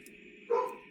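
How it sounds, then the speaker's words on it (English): A single short dog bark sounds over quiet background hum, brief and fairly close. "he picked up barking right now"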